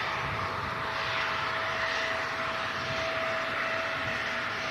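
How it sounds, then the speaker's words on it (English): A CRJ regional jet taxis past a runway visitor park, a steady, loud engine roar with a constant whining tone that holds without a break. "CRJ taxis past us here at the runway visitor park."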